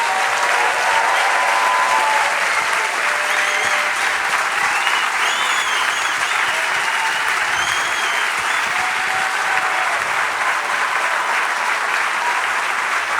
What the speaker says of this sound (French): C'est pas moi qu'il faut applaudir.